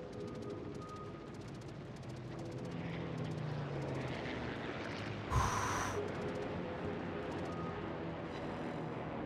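Aircraft in World of Warships flying with a steady engine drone over background game noise, broken midway by a brief loud burst.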